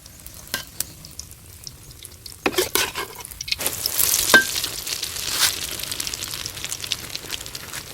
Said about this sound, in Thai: ผมจะเพิ่มฟืนในตอนผัดนะ